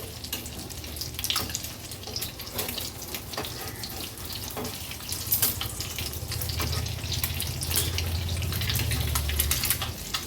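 Eggs frying in a pan over low gas flame as they are turned one by one, a soft continuous sizzle with scattered clicks and scrapes from flipping, slowly growing a little louder.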